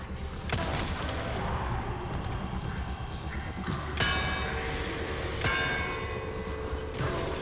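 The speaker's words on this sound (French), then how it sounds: "Là, il y a des cloches." Church bells ring in Resident Evil 4 Remake, several struck tolls spaced a second or more apart over a busy mechanical background, some louder and closer than others.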